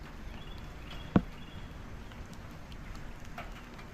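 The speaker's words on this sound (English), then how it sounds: "This is the type of rain I've been getting lately. This is absolutely insane." Steady hiss of heavy rain pouring down, with one sharp knock just past the one-second mark.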